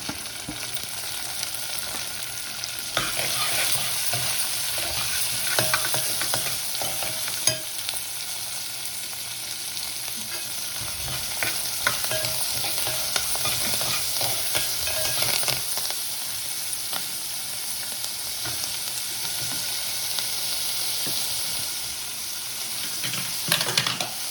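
Onion and carrot raita is poured into a hot pan holding chillies and stirred, a continuous sizzle and crackle with scraping spatula strokes and occasional clicks, close and steady throughout without talk.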